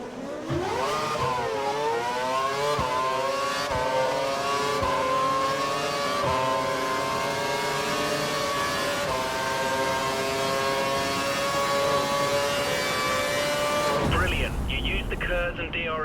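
F1 race car engine in F1 2012 screaming loud and close as it accelerates through rising gears while overtaking, continuous for most of the stretch, then cutting to a different sound near the end.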